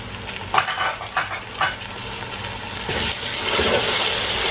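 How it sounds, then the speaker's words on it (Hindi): Potatoes and onions frying in a pan as ginger and garlic are stirred in for a chicken biryani, a steady close sizzle broken by scraping stirs and clatter, growing louder toward the end. "ये देखो हमारे हो रहे हैं आलू फ्राई।"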